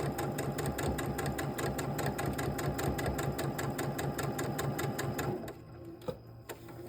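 A sewing machine stitches a quarter-inch seam at a 1.8 stitch length, running in a fast, steady mechanical whir up close, then stopping near the end and leaving a quieter room with a small knock.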